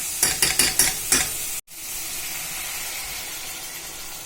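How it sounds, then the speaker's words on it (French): Boiling water poured from a kettle into a soup pot for chorba, starting with a few quick splashing bursts and then settling into a steady hiss of hot liquid. "j'ai fait bouillir de l'eau dans ma bouilloire et je vais rajouter de l'eau"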